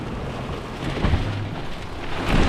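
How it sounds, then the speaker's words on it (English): Hail and a thunderstorm pelting a car windshield, heard from inside the car at an airport: a constant loud hiss of pounding ice with a low thunder rumble building near the end. "It's thunderstorming out there. I mean, literally, look at this windshield."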